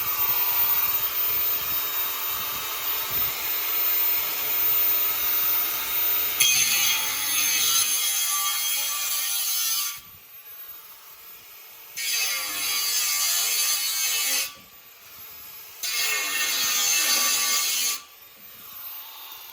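A Makita 18V LXT X-LOCK angle grinder with a 10Ah battery cuts a workpiece, a loud abrasive whine that runs steadily, then comes in several separate bursts with short pauses between them.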